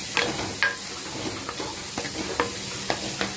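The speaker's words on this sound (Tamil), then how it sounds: "நம்ம முருங்கைக்காவும் கத்திரிக்காயும் சேர்த்து இந்த ஸ்டேஜுக்கு வதக்குறோம்" Drumstick, brinjal and onion sautéing in a pan for a chickpea kara kuzhambu, a steady low sizzle broken by a handful of sharp spatula scrapes and taps at irregular intervals, close and alone with no talk.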